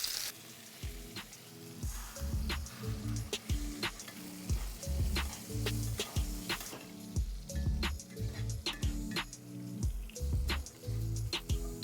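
Scallop dish searing in a very hot pan, crackling sizzle with scattered pops and drips, faint and close, alongside soft clinks and irregular utensil knocks, with no talk.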